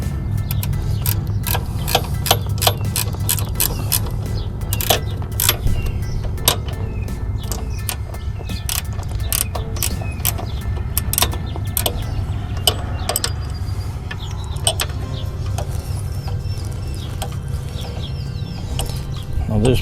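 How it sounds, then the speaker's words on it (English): Road traffic noise from a nearby road carries into an outdoor workshop during a Honda Pioneer 520 ATV A-arm install. It is a steady, fairly loud rumble throughout, with scattered clicks and clanks of work over it. "Sorry about this road noise, as usual."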